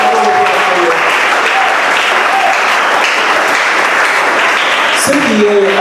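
A church congregation claps loudly and steadily during a sermon, a thick, continuous wall of applause with a few voices and a brief tonal sound rising near the end.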